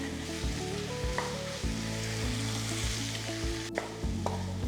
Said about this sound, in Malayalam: മട്ടണിലേക്ക് മസാല പിടിക്കുന്ന വരെ ഹൈ ഫ്ലെയിമിൽ കുറച്ച് നേരം ഒന്ന് സോട്ട് ചെയ്യുക